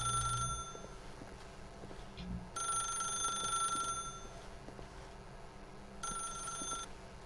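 An old-style telephone rings in the video game The Stanley Parable, three bright electronic rings spaced a few seconds apart over a quiet low ambient hum, with no speech.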